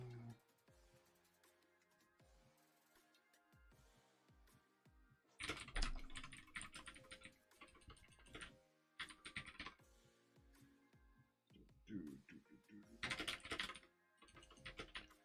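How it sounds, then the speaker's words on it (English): Rapid typing on a computer keyboard while coding a chat client in C with GTK, starting as sparse, scattered keystrokes and breaking into loud, dense bursts of fast clicking with short pauses between them. "look how fast I'm typing"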